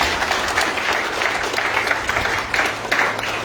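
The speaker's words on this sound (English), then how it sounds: "Let's give a round of applause for him." A graduation ceremony audience gives a sustained round of applause, many hands clapping at once in a full, uneven patter with a few louder bursts, close and lively, with no speech over it.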